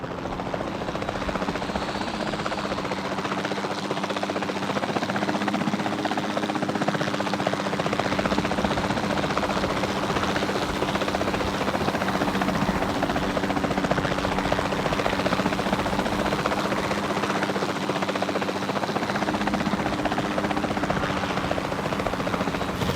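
A capture team helicopter in Jurassic World Evolution 2 thrums steadily and loudly throughout, a continuous rotor drone with no talk over it.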